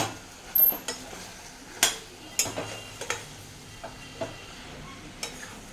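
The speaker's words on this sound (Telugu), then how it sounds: "ఇప్పుడు మిక్స్ చేసుకుందాం" Brinjal curry is stirred and mixed in a pan with a spoon. Sharp, scattered clinks and scrapes come at an uneven pace against a quiet, faint sizzle.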